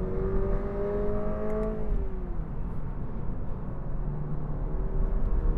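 Interior of a 2022 Toyota GR 86 with an automatic gearbox and torque converter, engine droning as it accelerates, rising tones dropping away on an upshift, then a steady hum and road rumble as it pulls on.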